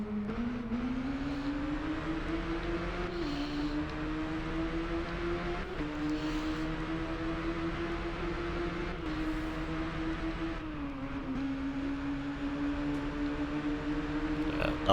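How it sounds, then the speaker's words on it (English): Motorbike engines in the racing video game Ride drone steadily at high revs, with a sustained whine that dips briefly at each gear shift or braking point and climbs again, alone with no talk. "And the motorbike sounds are amazing."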